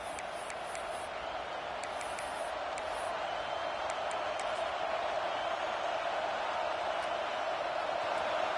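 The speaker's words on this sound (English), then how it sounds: "Decibels rising as the crowd gets behind this defense on third down" Steady roar of a stadium crowd cheering for the defense on third down in a football video game, a dense, sustained wash of noise that holds loud and even throughout.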